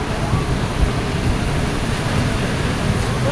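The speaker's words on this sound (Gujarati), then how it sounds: "કેટલો ભયંકર વરસાદ ચાલે છે." Torrential rain falling outdoors in Dubai, a thick unbroken rushing hiss that stays steady and loud for the whole moment, with no distinct talk.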